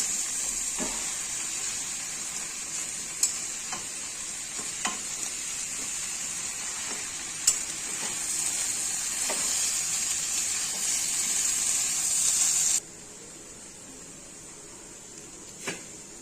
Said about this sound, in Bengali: মশলা দিয়ে কাঁঠালটা কষানো হয়ে গেছে